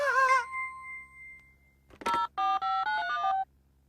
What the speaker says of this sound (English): I'd better get on the phone to the builders.